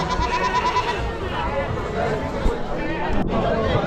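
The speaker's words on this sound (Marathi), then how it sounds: "इकडे हे जळगाव खांदेचे बकरे आलेले आहेत बघा" Goats bleating repeatedly among a busy crowd at a large goat and sheep market in Chakan, Maharashtra, their calls rising over constant chatter and babble nearby.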